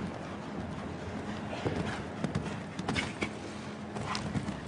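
A show jumping horse's hooves thud and clop on the arena footing between fences, a quick irregular rhythm of strikes heard fairly close over a low crowd and ambient background.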